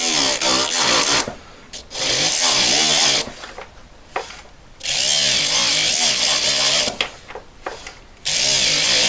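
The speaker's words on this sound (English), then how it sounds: "This is just a little like sandpaper roll in a drill." A power drill fitted with a sandpaper roll whirs in repeated bursts, grinding against a Yamaha FJ1200 carburetor float valve seat, with short pauses between runs, loud and close.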